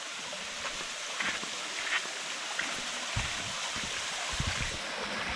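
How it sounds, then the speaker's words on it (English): Water crashes into a plunge pool inside a cave, making a steady, rushing wash with faint splashes and a few low thumps throughout. "I don't know if you can hear that. That water crashing."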